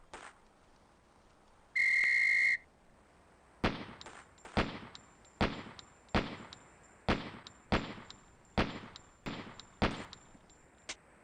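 A loud, steady whistle blast of about one second sets off a combat reflex drill in the game Police Quest SWAT, followed by a rapid series of sharp gunshots spaced roughly half a second apart.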